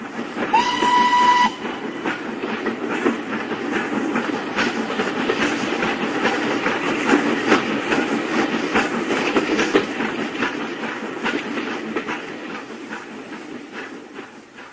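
A steam engine, Thomas the Tank Engine, rolls along rails with a rhythmic clickety-clack after a short, sharp whistle blast. The rumble stays loud and close throughout, then eases slightly toward the end.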